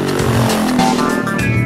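A KTM dual sport motorcycle rides a dirt road near Gateway, Colorado, its engine loud and close with a rough, shifting drone and changing revs over wind noise.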